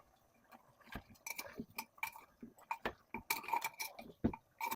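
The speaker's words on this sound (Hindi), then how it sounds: "अच्छे तरीके से चम्मच चलानी है।" A spoon scrapes and clinks against a cooking pot while stirring spiced mutton kunna, making irregular metallic taps and knocks, fairly quiet and close.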